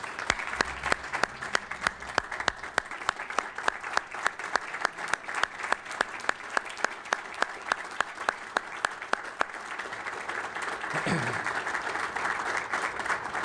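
Sustained audience applause welcoming Mr. Ben Dozier, father of the guest speaker, at an honor and courage seminar; dense steady clapping with a few sharp claps throughout, swelling slightly louder near the end.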